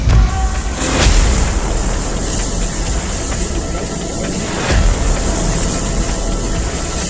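A rocket attack sets off explosions at an oil depot in Luhansk: two heavy booms, one early and one later, rise over a loud, continuous roaring rumble.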